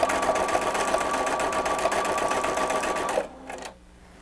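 A sewing machine runs steadily, stitching decorative thread onto a cotton beach bag with a fast, even mechanical whir that stops abruptly near the end, followed by a brief softer rattle.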